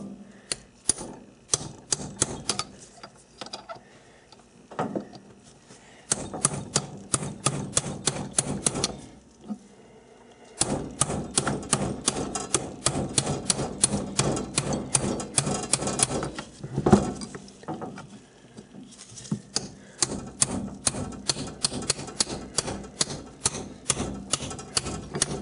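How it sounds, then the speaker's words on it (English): A hammer drives a shaft out of a South Bend 9-inch lathe gearbox in bursts of quick, sharp metallic taps, with short pauses between runs of blows. "So now we're going to drive this shaft out."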